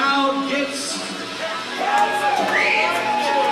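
A wrestling crowd at a New Heights wrestling show cheers and whoops, a broad roar of many voices with scattered shouts and yells rising and falling across the arena.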